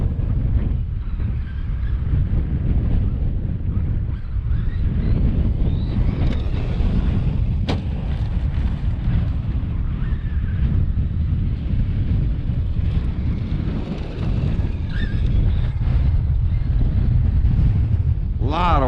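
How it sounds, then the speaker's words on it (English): Strong wind buffets the microphone outdoors in a continuous low rumbling roar that holds loud throughout, with a brief faint whine near the end. "A lot of wind out here."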